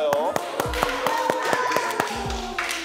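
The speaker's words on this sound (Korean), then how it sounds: "오빠가 박수를 나한테 저렇게 쳐준다고?" Sharp claps ring out as a crowd of onlookers applauds at a photo shoot, a handful of separate bursts spread through the moment over a voice talking and a soft musical tone.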